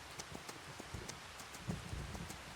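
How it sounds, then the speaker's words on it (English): Horse galloping in the Farming Simulator 25 video game, with a fairly faint, steady run of soft hoof thuds and clops over light rustling ambience. "just cruising with our horse. Do a little quicker, little gallop"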